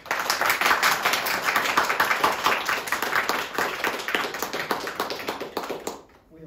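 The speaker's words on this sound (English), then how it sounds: "We have a lot of applause in here." Audience applause following a senior student string quartet's performance of Tchaikovsky's Andante cantabile, a dense wash of many hands clapping steadily at close range, then cutting off abruptly near the end.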